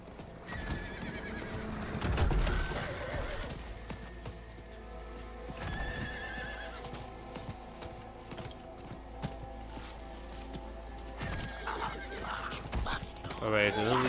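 Roach, a horse mount in Diablo 4, whinnies and neighs loudly, followed by hoof clip-clops over a steady game music bed, with a voice talking at times.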